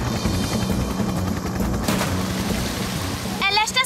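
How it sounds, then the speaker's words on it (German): A firefighting helicopter's steady, throbbing rotor drone fills the clip, with a brighter burst of noise near the end, from an animated children's show. "Hubschrauber angeflogen."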